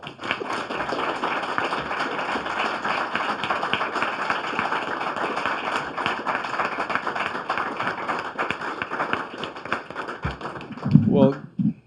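A room full of people claps steadily at an award ceremony for the 2017 Goldziher Prize. The applause holds even and full for nearly twelve seconds, then a few louder knocks and a voice rise near the end.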